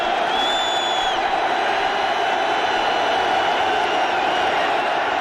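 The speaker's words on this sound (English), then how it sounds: "And here comes the crowd again." A steady crowd roar fills a football stadium during a 1992 NFL game between the New Orleans Saints and the Detroit Lions, sustained and dense from start to finish, with faint thin whistles briefly rising above it.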